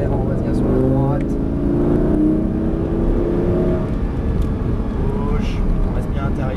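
A car accelerates on a track, its engine rising in pitch with a steady loud roar and rumbling wind noise throughout, while a voice talks over it.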